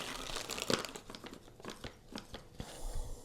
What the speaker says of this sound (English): I've just gone and got some scissors so I can cut across there